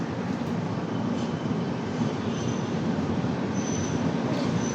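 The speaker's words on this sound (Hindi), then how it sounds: "सिर्फ 2 मिनट ट्रेन रुकी और खुल चुकी है" On board the Pune-Howrah Azad Hind Superfast as it leaves Bhatapara, a steady, close rolling rumble fills the carriage, with faint high wheel squeals over it.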